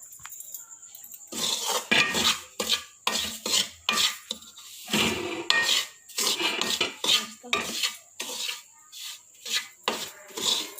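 Semolina halwa being stirred and scraped in a pan with a spoon, giving a steady run of close, rhythmic scraping strokes and metal clinks against the pan with no talking.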